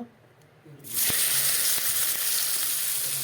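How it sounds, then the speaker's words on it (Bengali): Onions dropped into hot oil in a wok burst into a loud, steady sizzle after a brief quiet moment, with a couple of light clicks of a utensil, close to the listener. "দেখো পেঁয়াজগুলো তেলে দিয়ে দিলাম পেঁয়াজগুলো লাল করে ভেজে নিই"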